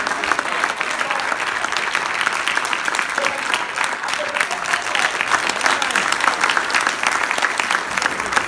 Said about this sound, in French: Je voudrais qu'on applaudisse très fort les papas.